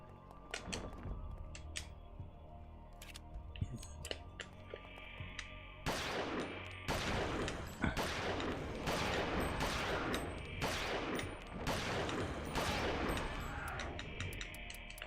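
Gunfire in the video game Eternal Darkness: Sanity's Requiem, scattered single shots at first, then a rapid run of loud cracks and thuds that blur together against a humming game background.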